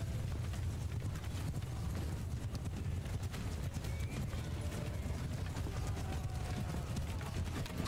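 Hooves of cavalry horses clatter in a dense, fast patter during a Mount & Blade II: Bannerlord battle, a steady galloping rumble that carries on with no speech.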